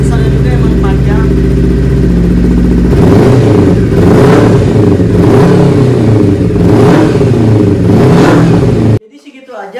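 A modified Honda CBR250RR sport motorcycle engine revs loudly through a long exhaust silencer, with rising and falling exhaust roars, steady idle beforehand, cutting off abruptly near the end.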